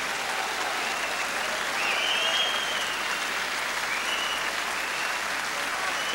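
Steady, even applause from the crowd after the Shane Tonks versus Mark Tibbs boxing match, heard at a distance as a continuous wash of clapping across the whole stretch.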